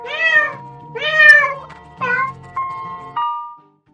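A domestic cat meowing close and clear, three drawn-out meows followed by a shorter trailing call, alone with no other sound.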